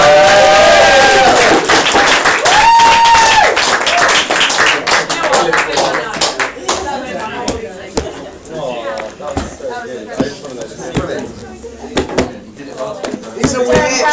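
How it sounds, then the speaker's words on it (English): Audience applause at a magic show in the Priory Arms pub: a burst of clapping with voices, dense for the first couple of seconds, then thinning into scattered claps beneath ongoing talk. "Round of applause for yourself."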